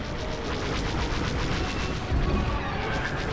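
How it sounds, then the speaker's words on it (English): Enemy weapons fire striking a starfighter in Star Wars Squadrons: a dense, continuous rumble of booming blasts and rapid impacts, with a heavier hit near the end. "Taking enemy fire!"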